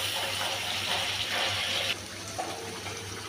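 Water pours steadily into a pan of fish curry as it cooks, a continuous gushing splash that drops a little in level partway through, heard without talk.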